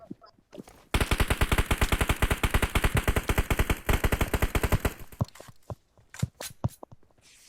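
Automatic gunfire in the video game PUBG Mobile: a long, loud, rapid burst of shots for several seconds, followed by scattered single shots.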